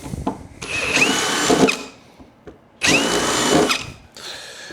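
A power drill with a larger bit bores into the steel body of a 1972 Fastback Mustang, two loud sustained grinding runs separated by short pauses and clicks, heard close and alone.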